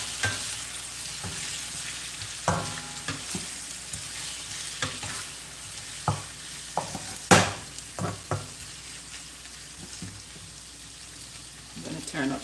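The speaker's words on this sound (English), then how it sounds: "Stir this down a bit." Food frying in a pot with stirring, a side dish for a Caribbean fish lunch alongside turned cornmeal, with steady soft sizzle under occasional sharp clinks and scrapes of a utensil against the pot.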